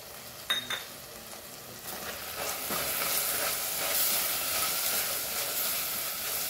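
Chicken mince coated in masala with Goan spicy chili sizzles steadily in a pan, a continuous frying hiss with occasional stirring scrapes, close and fairly loud throughout.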